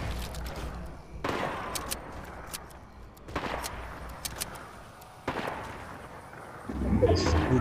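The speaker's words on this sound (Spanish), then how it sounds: "Escuchan disparo," Gunfire in the video game Fortnite on Nintendo Switch: several sharp shots land at moments spread through the clip over steady game background noise, and a louder burst of action comes near the end.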